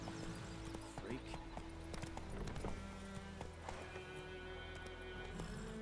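Roach, the horse in The Witcher 3 video game, gallops with rapid rhythmic hoofbeats under game music and ambient sound, while a voice talks over it.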